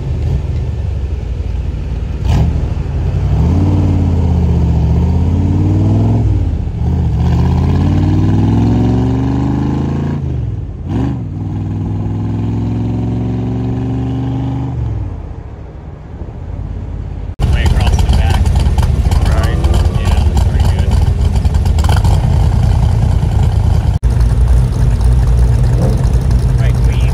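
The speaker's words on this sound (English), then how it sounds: "we're going to watch some burnouts in the middle of the street here at the Power Tour" Hot rod cars doing burnouts in the street at the Power Tour: loud engines rev in rising and falling sweeps, rumbling and roaring up close, then give way to sustained heavy engine noise, with people talking over it.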